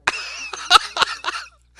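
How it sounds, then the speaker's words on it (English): A man coughs repeatedly inside a taxi cab, five or so harsh, rasping bursts in an uneven rhythm, fairly close and with brief gaps between them. "Starts coughing."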